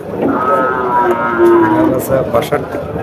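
A local cow gives a long, drawn-out moo close by at the Barobazar cattle market, with faint background chatter and noise around it.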